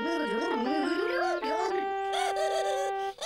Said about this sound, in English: Saxophones sound like this.